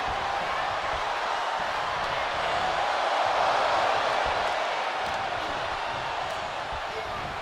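A large wrestling arena crowd in the WWE 2K25 video game roars as a steady, dense wash of cheering and noise that holds constant throughout.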